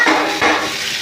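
Eggs and soybean chunks dropped into cooked-down masala in a pan, giving a brief loud sizzle with two hissing bursts and a light clatter, no voices.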